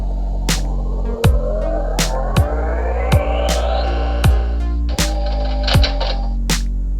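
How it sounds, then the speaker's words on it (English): Sound effects from an old PC pinball video game on a 1998 laptop: rising electronic sweeps and tones punctuated by regular sharp clicks and thumps, steady and fairly loud with no talking. "There's an old pinball game."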